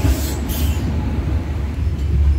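The 22890 Samudra Kanya Express from Puri to Kolkata rolls along with a loud, steady low rumble and rattle of wheels on track, heard from aboard the moving train.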